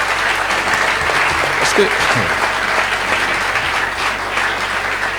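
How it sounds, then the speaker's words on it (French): A church congregation at a public consecration of an apostle applauds in a steady, loud wash of clapping that fills the whole stretch, with a brief voice heard over it. "Applaudissez la déclaration"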